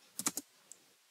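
Three quick keystrokes on a computer keyboard while HTML code is typed, close and crisp, followed by silence and one faint lone tap a moment later.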